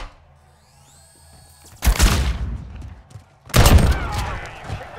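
A grenade blast and bursts of gunfire in the Call of Duty: Warzone battle royale, two loud sudden eruptions of crackling shots and booms breaking through quieter game sounds, close and intense.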